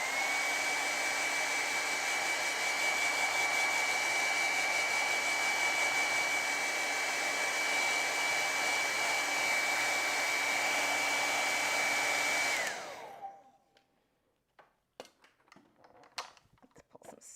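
A hair dryer blows steadily on a watercolor painting, an even loud whir for about twelve seconds before it switches off and winds down into near silence with a few small knocks.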